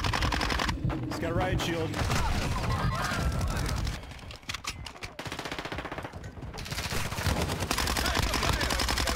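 Loud bursts of automatic gunfire in a shoot house video game map, with rapid rattling volleys through most of the stretch, a brief lull in the middle, and a player talking over the shooting.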